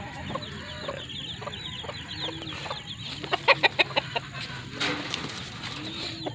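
Breeding chickens, broodcocks and broodhens, cluck in a farm pen, with a run of sharp, close clucks mid-clip over softer background bird calls and murmuring.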